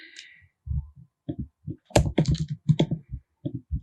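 Close, quiet keystrokes on a computer keyboard, irregular taps and short clusters of typing with brief pauses between them.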